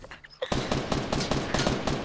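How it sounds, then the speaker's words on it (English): Rapid burst of video game gunfire shot through a wall, a fast run of loud, sharp cracks repeating about every tenth of a second for over a second and a half after a brief quiet lead-in with faint game sounds. "I shot him through a wall"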